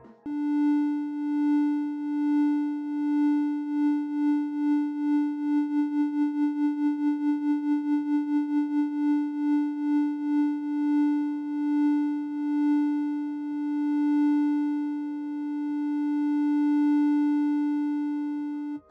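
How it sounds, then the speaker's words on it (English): A steady synthesizer tone pulses with LFO-modulated volume that speeds up into rapid wobbling throbs, then slows back down to long, lazy swells. "Having a higher tempo makes some sort of wobble effect"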